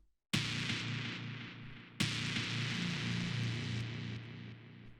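Two sustained synth chord stabs in a techno track, each hitting sharply and ringing out bright and full, the second following about two seconds after the first.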